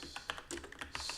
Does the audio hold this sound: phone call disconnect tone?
no